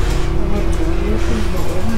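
A bus carries passengers to Hotel Cheyenne at Disneyland Paris, its loud steady engine drone and road rumble filling the cabin with a faint whine on top.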